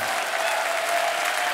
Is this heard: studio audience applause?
yes